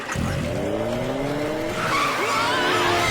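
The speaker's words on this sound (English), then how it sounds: "And he crashes the car." Cartoon car skidding in Sonic Boom, with long squealing tires sweeping in pitch over the engine, loud and close, and a second screech near the end with no talking over it.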